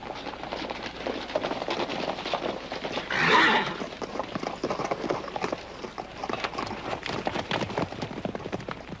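A herd of horses driven by Indian riders across open Western country gives off a steady rumble of many hooves, with one loud neigh rising midway through. No one speaks.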